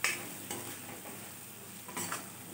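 Spices and pointed gourd cooking in a pan, with a soft continuous sizzle broken by a few scraping stirs at the start and near the end. No one speaks.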